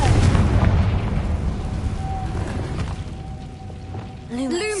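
Confringo spell blast in a Harry Potter video game: a deep booming explosion opens loudly, then a rumbling decay fades over several seconds before a voice begins speaking at the end.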